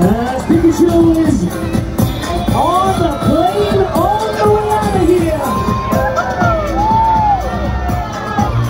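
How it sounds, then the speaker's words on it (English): A large crowd screams and cheers at a Pokémon drone show, loud and continuous with rising and falling whoops and children's shouts layered throughout. "Everybody scream for Afro Pikachu!"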